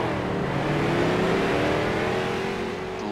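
Street stock race cars on an oval track, engines roaring loud and close in a steady, sustained drone with rising pitch as the cars accelerate through a turn.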